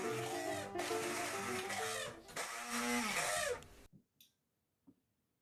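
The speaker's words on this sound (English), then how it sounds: "I took this opportunity to actually use my stick blender and blend it into a sauce," Stick blender whirring through a fish and sweet dark gravy mixture to make a sauce, a loud steady buzz with brief pitch dips that cuts off abruptly, followed by a few faint clinks.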